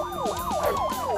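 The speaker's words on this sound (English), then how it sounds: "A fire engine?" Fire engine siren wailing loudly and close, its pitch sweeping up and down in quick repeating cycles.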